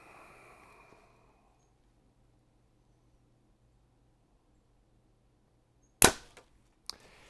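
A Hoyt RX-7 Ultra compound bow fires once, a sharp loud snap of the string after a long quiet stretch, followed by a brief smaller click or knock about a second later.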